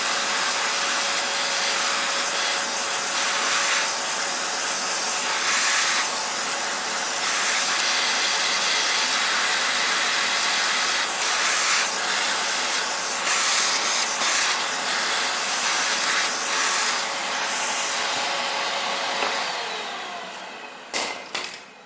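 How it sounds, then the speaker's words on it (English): A vacuum cleaner runs on the pistons of a Honda Civic 1.8 engine, a steady, loud, airy whine and hiss for about nineteen seconds before it winds down with a few clicks. "Firstly I start my vacuum cleaner and then I start to clean."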